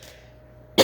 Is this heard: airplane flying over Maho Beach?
no